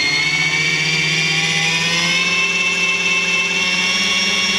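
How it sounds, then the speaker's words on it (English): Model helicopter motor spinning up its rotor blades, a steady loud whine with layered tonal hum, rising slightly in pitch, close and continuous with no voices. "I know the blades have slowed down quite a bit now, but I'm just going to engage it and then spin it up."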